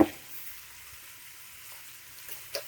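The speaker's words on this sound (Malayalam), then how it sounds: "പഞ്ചസാര ഇട്ടിട്ട് ഒന്ന് ഇളക്കിയെടുക്കാം." Lemon pickle with sugar cooks in a pan, a soft, low frying sizzle under a faint hum, with a short clatter at the start and a brief stirring knock near the end.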